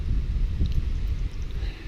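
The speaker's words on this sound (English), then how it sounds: "It's windy up here." Strong mountain wind gusts steadily across an exposed ridge on the Appalachian Trail, roaring and buffeting the microphone without a break, loud and close with no voices.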